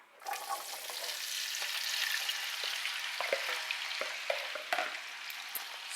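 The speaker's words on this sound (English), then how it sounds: "So as soon as our grease gets hot, we're going to dump in our potatoes." Potatoes dumped into hot grease sizzle and crackle steadily, a close, bright frying hiss with small pops and stirring clicks throughout, no talking.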